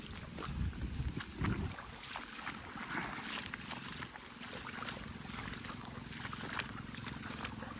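Water rushes and gurgles continuously close by as it overflows through flooded paddy fields, with wind buffeting the microphone and a few thumps early on.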